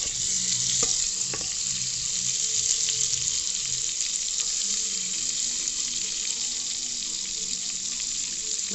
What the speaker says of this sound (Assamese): এতিয়া বাটাৰ দিছোঁ, বাটাৰখিনি ঢালি দিলোঁ